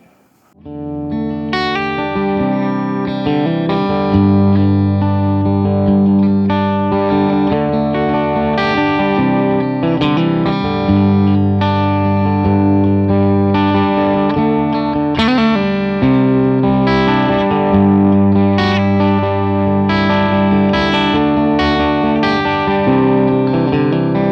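A 1959 Gibson Les Paul Junior electric guitar with heavy distortion plays chords and riffs, loud and sustained, with a thick saturated tone throughout.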